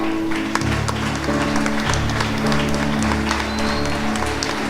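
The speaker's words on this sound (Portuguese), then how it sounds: "Você pode dar uma salva de palmas a Jesus" Congregation clapping during a church service, a continuous patter of many hands over sustained organ or keyboard chords, steady and fairly loud with no voice on top.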